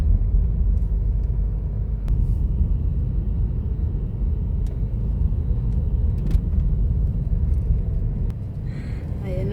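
Steady low engine rumble fills the cabin of a car climbing a mountain road near Beatenberg, Switzerland, constant and close throughout with faint clicks and a brief voice near the end.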